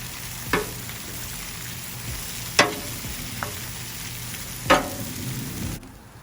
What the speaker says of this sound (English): I like to stir my vegetables until I notice my onions are caramelized.